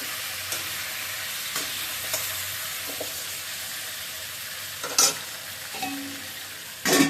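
Fish masala is stirred in a pan over high heat after the lid is lifted, a constant sizzle with scattered spoon scrapes and a few louder clanks, no voices.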